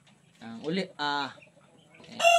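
On a farm, chickens cluck near the microphone in a few short bursts separated by gaps, ending with a higher, louder call that may come from chicks, with no talk.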